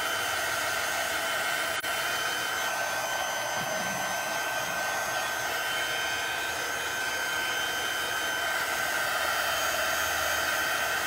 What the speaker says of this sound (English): I'm gonna take my heat tool and I'm gonna dry it.